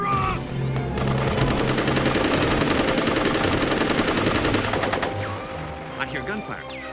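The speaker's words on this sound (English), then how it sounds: "I hear gunfire." Rapid bursts of automatic gunfire in an anime fight scene from Ghost in the Shell: Individual 11, a dense, loud volley lasting about four seconds before tapering off, with voices faintly under it.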